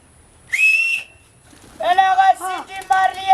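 A person whistles in imitation, a short rising-falling tone followed by a longer run of wavering whistled notes, close and clear, with no talk over it.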